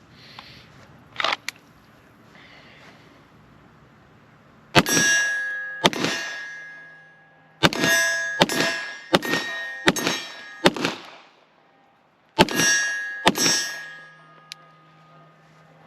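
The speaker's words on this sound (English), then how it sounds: "let's just play around with a little strong and support hand shooting" Springfield Armory 1911 DS Prodigy pistol fired at steel targets, sharp shots with ringing metallic clangs, first a few scattered hits, then quick strings of five and three rounds with pauses between, loud and close.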